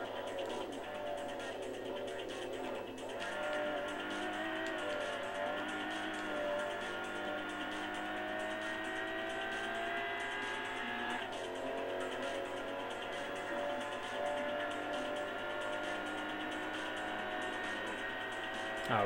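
A racing car engine in the video game Import Tuner Challenge drones steadily at high revs, shifting pitch at a couple of gear changes, a continuous synthetic roar with no pauses.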